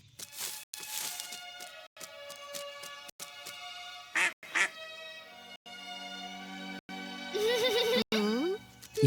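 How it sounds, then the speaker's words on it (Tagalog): Nasal quacking from a small duck mixed with voices talking over it, the quacks coming in short bursts, louder toward the end. "Isang maliit na pato lang pala."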